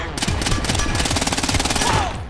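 Rapid bursts of automatic gunfire in the Splinter Cell Blacklist video game, a dense, loud, rhythmic rattle of shots lasting the whole moment.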